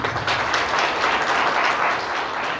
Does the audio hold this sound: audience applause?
yes